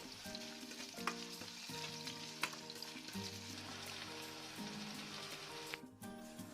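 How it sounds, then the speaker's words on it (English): Steady sizzling of onions sautéing in oil, a constant crackling hiss with occasional stirring clinks, faint music playing underneath. "Now add onion to the mix and saute it well until it turns golden color."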